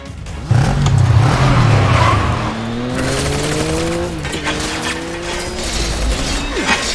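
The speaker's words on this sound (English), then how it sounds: "A mint ice cream pickup truck." A pickup truck drives in the Final Fantasy VII Remake video game, its engine humming loudly with rising and falling pitch as it accelerates and shifts, with brief tire squeal, and no talk over it.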